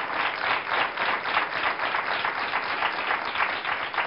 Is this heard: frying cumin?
no